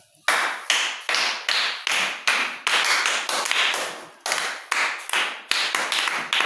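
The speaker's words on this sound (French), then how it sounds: "Acclamez très fort pour notre jeune talent" An audience claps for a young talent, a run of loud, sharp, rhythmic claps in fairly steady bursts, close and strong throughout with no cheering voices standing out.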